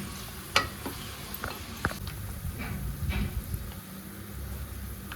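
Garlic sautéing in a pan for biryani, a steady soft sizzle with a spatula stirring and scraping in short strokes, close and fairly quiet, with no talk.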